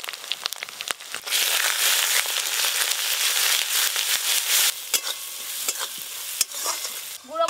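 Ground spices such as cumin, coriander, chili and turmeric are stirred in a hot pan of oil for a chicken curry. The sizzle is loud and bright, with scraping strokes of the spatula, and no voices.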